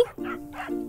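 Pet dog barking, a few short, faint yips and barks in quick succession with a tonal whine between them, no talk.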